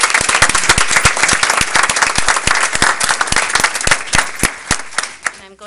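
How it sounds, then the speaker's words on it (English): A school board meeting audience applauds award recipient Mrs. Gostomski with loud, close, crisp clapping from many hands, which thins slightly toward the end. "I'd like to offer a round of applause for Mrs."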